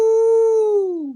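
One sustained dog howl, loud and near, holding a steady tone before sagging downward in pitch and cutting off, with no talking around it.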